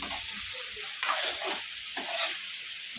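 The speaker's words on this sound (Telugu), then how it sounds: "ఇది బాగా కలగట్టేసేయాలి మొత్తం అంతా కలుపుకోవాలి" Mutton liver fry being stirred in a pan, scraping and sizzling steadily with two louder stirring strokes, close and alone.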